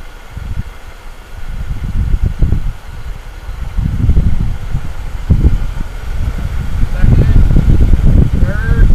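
An automatic-transmission car with a torque converter revs its engine, then climbs through second, third and fourth gear. A low engine rumble swells in bursts, and a rising whine builds near the end.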